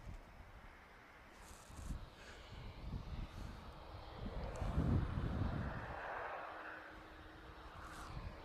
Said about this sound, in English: 737-900 just landed there